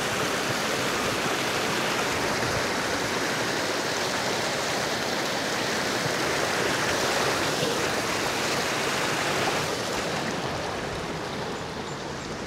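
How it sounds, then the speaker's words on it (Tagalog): Steady rushing flow of the Kaypaaba River in Bailen, Cavite, a continuous broadband wash of moving water, close and even throughout with no voices. "Ganda ng agos ng tubig dito."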